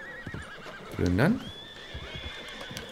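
Agitated horses in the video game Red Dead Redemption 2: one loud, close whinny rises and falls, with soft hoof clops and a brief spoken word around it.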